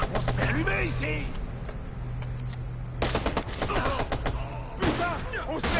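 Rapid bursts of video game gunfire crackle through a firefight, with heavy impacts and clatter throughout, while excited voices talk and shout over the shooting.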